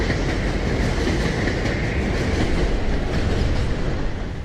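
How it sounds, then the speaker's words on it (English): A Manhattan-bound 5 local subway train in the Bronx rumbles along with a continuous roar and rhythmic clatter of wheels over rail joints, loud and close throughout. "This is a Manhattan-bound 5 local train."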